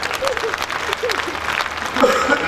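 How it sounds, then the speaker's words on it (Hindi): At a Hindi comedy poetry gathering in Behror, the crowd breaks into hearty applause as voices call out over it, and the clapping swells near the end. "एक बार जोरदार आप लोग ताली बजाएं"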